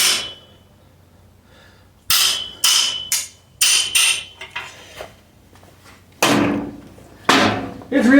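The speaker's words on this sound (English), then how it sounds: "It's real easy to hit this and have this wrench come flying off." A hammer strikes a thin wrench seated on a stuck bottom bracket cup of an old French bicycle, giving about seven loud, sharp metallic blows at uneven intervals, close up and with no talking.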